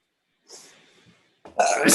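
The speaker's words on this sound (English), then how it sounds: "just finishing out my sneezing, my pre-show sneezing" A person sneezes at close range: a soft, breathy lead-in, then a sharp, loud burst after a short pause.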